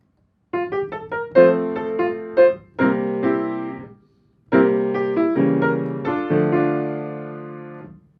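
A gentle melodic phrase from the My Neighbor Totoro theme, played on a keyboard or piano with its original full chords underneath: a few short notes, then sustained harmonies after a brief pause.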